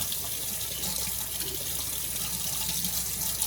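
Water runs steadily from a tap into a sink, a constant splashing hiss close by with no voices over it.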